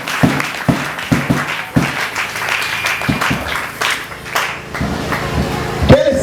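A church congregation at a Sunday service applauds loudly, rhythmic bursts of clapping and cheering spread through the clip with a voice briefly heard.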